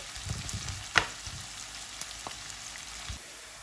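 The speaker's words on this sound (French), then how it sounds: "je vais venir mettre l'équivalent de 2 oignons. Je vais les faire frire." Onions fry in hot oil for a chicken biryani, giving a faint, even sizzle with a few scattered taps and clicks. One sharper knock stands out early on.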